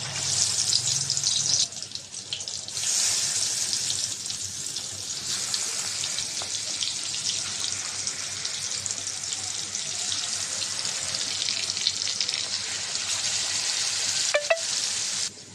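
Hilsa fish sizzling and crackling in hot oil, a steady close hiss of frying that runs almost unbroken, with a brief sharper burst near the start and occasional faint clinks.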